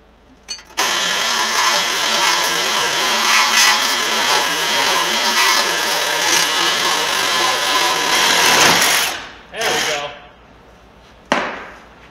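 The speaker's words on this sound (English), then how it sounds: "So we're gonna cut this here and then we'll take that whole cross member out." A power tool cuts through the torsion bar cross member under an OBS Chevy truck, a loud, steady grinding whine lasting about eight seconds that then drops away, followed by a couple of short bursts.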